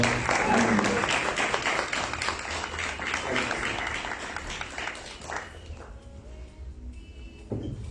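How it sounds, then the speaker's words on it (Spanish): A church congregation applauds to welcome a brother to the front. The clapping is loud and dense at first, then thins and fades over the last few seconds, with faint voices and footsteps under it. "Recibimos con un aplauso también a nuestro hermano."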